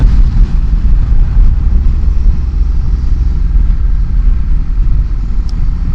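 A motorcycle riding a winding countryside road in the Canary Islands, a loud continuous low engine rumble with heavy wind buffeting, steady from start to finish.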